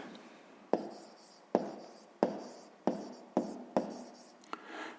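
A pen writes an answer to a sixth-grade maths exercise on paper, making a series of about six distinct scratchy strokes at a fairly even pace, close up and with no talking.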